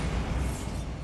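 A Bombarda spell detonates in Hogwarts Legacy, one brief, loud, deep blast with a thick rumble that dies away within a second.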